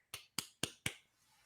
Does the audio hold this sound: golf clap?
yes